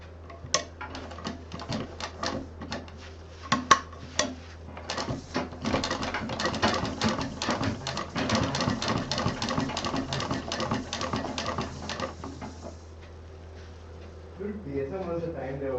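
A sewing machine stitches a sling bag after the zip is set, starting in short bursts and then running as a rapid, steady clatter for several seconds before stopping, with faint background voices at the end.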